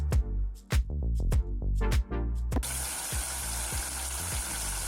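Onions dropped into hot oil for chicken biryani: a series of rhythmic knocks and thuds at first, then a sudden bright, steady hiss of frying that carries on loud and close.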